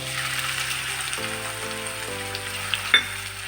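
Chopped onions fry in hot oil in a pan for a kachori filling, a soft steady sizzle with a faint clink near the end.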